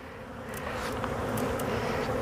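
Honey bees buzz steadily in a dense, continuous drone while an open beehive is being inspected, close and even throughout with faint clicks of the frames.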